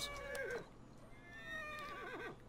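Horse in the Assassin's Creed Syndicate video game whinnies twice, a loud shrill neigh near the start and another near the end, over a steady low background rumble.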